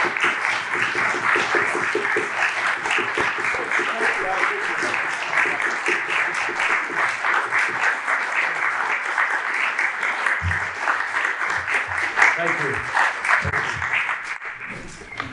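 An audience applauding to welcome Medal of Honor recipient Leroy Petry onto the stage for a keynote address, a loud, dense, sustained round of clapping that fills the room and tapers near the end.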